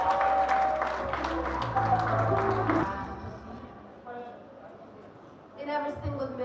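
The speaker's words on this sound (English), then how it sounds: "Give a round of applause to her." Audience applause for a contestant at the Miss Culture Gambia 2025 pageant during the Eco Advocacy Round: a loud, dense wash of clapping with crowd noise for about three seconds, fading into quieter room sound and then a voice.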